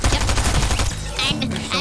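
Shotgun blasts in a Fortnite match, a rapid run of loud, punchy shots crowding the first second, then a sharper crack and a lighter report trailing off near the end.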